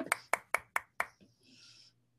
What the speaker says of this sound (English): can we just have a moment of applause or something?